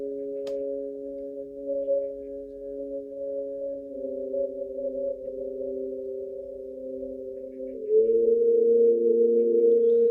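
Sustained synthesizer pad built from a few steady tonal layers, holding smooth chords that shift once midway and swell slightly louder near the end, alone with no talk.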